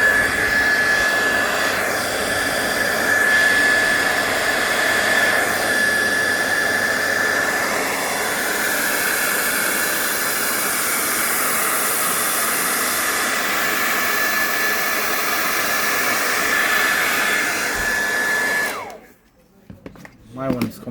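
Heat gun warming the screen of a Samsung J4 Plus phone, a loud, steady close-up blowing roar that runs almost without a break before cutting off near the end.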